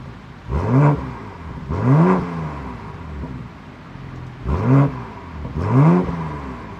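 A 2025 BMW M340i (G20) revving, four distinct throttle blips each rising and falling, with a brief engine roar and exhaust note between quieter idle stretches, close and loud with no talk.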